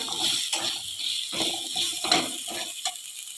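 Red pumpkin pieces sautéing in hot oil with spices, a steady crackling sizzle broken by repeated scraping stir strokes, close and fairly loud, with no talking.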